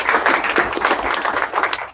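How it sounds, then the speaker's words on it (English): A room at a membership meeting applauds the board members, dense, loud clapping from many hands that holds steady for a couple of seconds. "Let's give them a round of applause"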